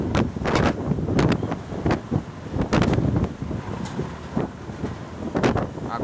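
Strong storm wind in Wichita, Kansas, batters the microphone in loud, irregular gusts and roaring buffets that rise and fall continuously throughout.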